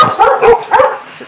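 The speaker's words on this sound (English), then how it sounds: "Please excuse my barking dogs in the background." Several loud, sharp dog barks come in quick succession, close by and insistent, with no talking over them.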